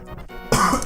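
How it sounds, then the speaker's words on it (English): A single short cough from someone off camera, close and fairly loud, following a brief quiet moment and standing alone without talk. "Sorry, I just had to cough off screen."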